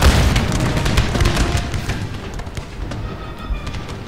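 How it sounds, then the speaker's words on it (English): Musket volleys and artillery fire from a Napoleonic Waterloo battle in the Total War strategy game form a loud, dense, continuous roar of crackling shots and booms throughout. "Everybody's firing."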